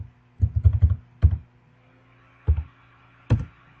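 A computer keyboard is typed on up close in a few short bursts of quick clicks, with one quick run, a pause, then single keystrokes; no one speaks.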